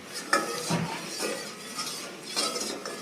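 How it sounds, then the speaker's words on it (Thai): A spoon stirs a pandan jelly mixture in a pot, producing soft, repeated scraping and light clinks against the metal at a close, moderate level with no talking. "เราก็จะคนไปเรื่อยๆจนกว่าจะอิ่มตัว"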